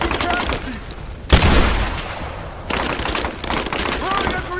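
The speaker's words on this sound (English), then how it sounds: "Under fire!" Rapid gunfire volleys in Rise of the Tomb Raider, with a sharp loud blast in the middle followed by continued shooting, while combat voices speak over it.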